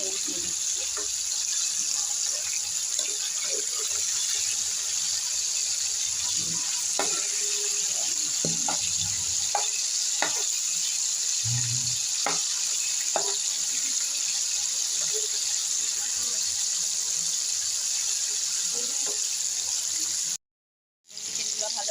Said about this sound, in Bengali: চামচে তুলে আমি চিকেনটাকে ভাজিয়ে দিলাম